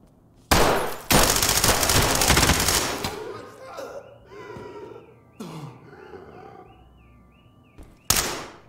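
In the video game Ready or Not, a gun fires loud bursts: a sustained volley early, then a single sharp shot near the end, with brief voices and faint ambient sounds between.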